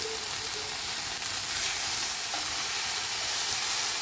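Sweet peppers and tomatoes sizzle steadily in a frying pan, a close, continuous hiss that runs alone without a break.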